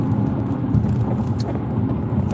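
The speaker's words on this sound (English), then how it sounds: "I'm driving." Steady low rumble of a car being driven, the engine and road noise holding a constant level throughout with no voices.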